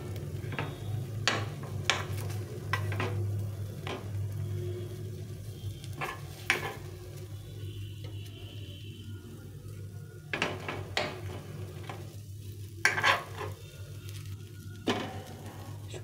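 Snack frying in a pan of oil for an afternoon tiffin, with a low steady sizzle running throughout and scattered clinks and scraping stirs of a utensil against the pan.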